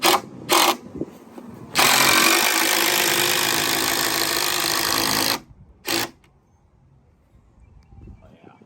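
Power drill driving screws into pallet wood while toe-screwing a chicken coop frame, two short bursts, then a sustained loud whir of about three and a half seconds, a brief pause and a final quick burst, all close.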